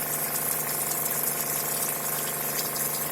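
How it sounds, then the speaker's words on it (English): An RV 12-volt water pump rated at 3.3 gallons per minute runs steadily with a loud, constant mechanical drone and rushing water flow, close and unbroken throughout, with no speech. "it's louder than the other pump. But it has a little bit more flow"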